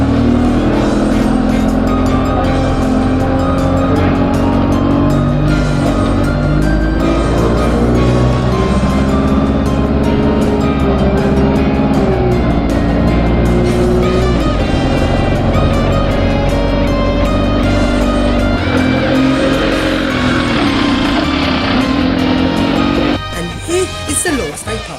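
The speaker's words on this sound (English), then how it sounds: "And now to the next bus, which is an Enviro 200 to the long stay parking for Terminal 5." An Enviro 200 bus runs toward the Heathrow Terminal 5 long stay car park, its engine a steady loud drone with shifting gear tones throughout, some background talk, and a change in sound near the end.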